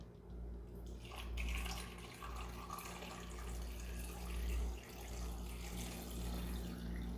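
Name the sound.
water poured into a cooking pot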